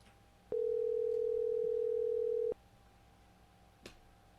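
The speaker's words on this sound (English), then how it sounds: "Answer the phone" A phone ringing out while the caller waits for someone to pick up: one steady, unbroken ringback tone lasting about two seconds, moderately loud, with quiet line hiss before and after and a faint click near the end.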